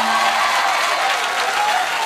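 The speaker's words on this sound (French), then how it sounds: "Merci d'applaudir encore très fort pour Zaef le taximan, s'il vous plaît" Dense, loud applause from a comedy show audience for comedian Zaef le taximan, continuous clapping throughout.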